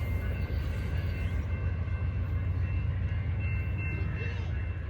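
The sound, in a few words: train passing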